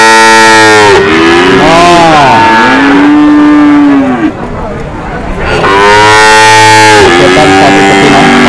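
Several cattle moo loudly and repeatedly at a cattle market in Pati, long drawn-out lowing calls overlapping one another amid a busy, noisy crowd atmosphere.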